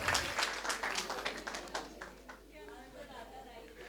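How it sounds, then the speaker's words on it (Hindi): Loud audience applause at a Sanskrit quiz event during a poets' festival, dense clapping swelling at the start and then thinning into a scattered patter as a voice speaks over it. "जोरदार तालियां बजाइए।"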